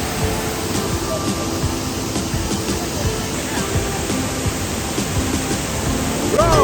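Pepper Falls in Kodaikanal pours in a constant, loud, close rush of falling water, an even wash of noise that never lets up.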